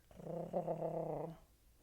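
A person's voice imitates a leopard's snarl with one sustained, rough, growling tone lasting about a second, close and clear, fading into quiet.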